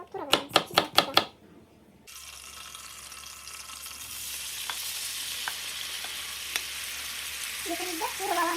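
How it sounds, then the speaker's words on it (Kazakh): Meat sizzles and crackles steadily in hot oil, a dense, loud frying hiss that starts after a few sharp knocks of chopping and carries on with faint clinks and a brief voice near the end. "Біз қызып тұрған майға етімізді жақлап қуырып аламыз."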